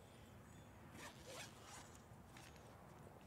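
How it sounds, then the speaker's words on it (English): A clothing zipper is pulled open in a few short, raspy strokes, close and fairly quiet, with no talking. "Oh, wrong zipper. This thing has too many zippers."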